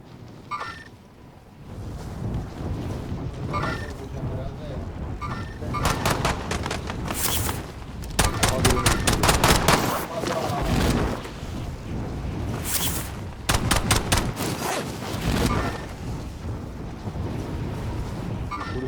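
Gunfire in the Call of Duty Warzone video game: repeated loud bursts of rapid automatic shots and heavier booms, coming in clusters with short pauses between them, with a little talk in between.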